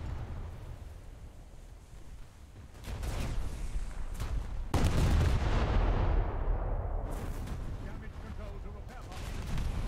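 Naval gunfire from the USS Newport News in War Thunder, heavy cannon blasts landing with deep rumbling booms, a couple of sharp onsets followed by sustained roaring noise.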